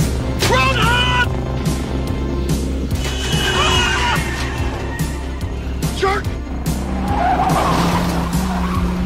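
Tires skid and screech as fast cars race in an action-movie chase, a loud, dense soundtrack with sustained squealing throughout and brief voices mixed in.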